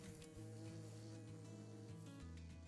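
Bees hum in the Minecraft modpack All the Mods 10, a steady droning buzz with faint tonal layers that holds throughout, quiet and alone without speech.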